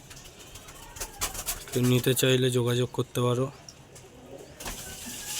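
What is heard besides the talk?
pigeons cooing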